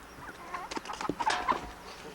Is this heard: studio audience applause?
no